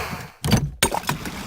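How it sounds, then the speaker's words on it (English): Door sounds from the Payday 2 video game: a muffled thunk, a short silence, then a sharper knock followed by faint rattling, close and brief. "Doors opening and closing."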